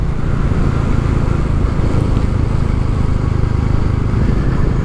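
A 2022 Royal Enfield 350 Classic motorcycle pulls hard in third gear along a back lane, its engine a steady, loud, continuous drone with no break or change in pitch.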